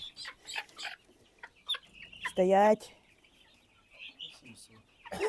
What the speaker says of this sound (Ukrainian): Ну, Півник гарненький.